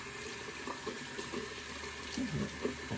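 Warm tap water runs steadily from a faucet to wet a new synthetic shaving brush, a low continuous wash with faint splashes and knocks from the brush under the stream, recorded close in a quiet room.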